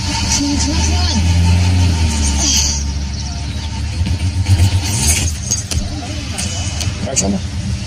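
A flooded car engine cranks and fails to start, a loud close grinding churn that cuts out partway through, followed by rattling and jangling keys while voices talk over it.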